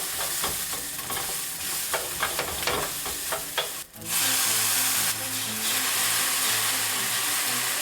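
Rice frying in infused oil while being stirred, scraping and clacking of a utensil against the pan over a sizzle, then a louder, steady hiss of frying that carries through to the end.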